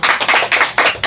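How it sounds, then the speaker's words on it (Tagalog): Children in a classroom give a classmate a round of applause, four quick bursts of loud, close hand clapping with brief dips between them. "Bigyan natin ng masigabong palakpak si Marga"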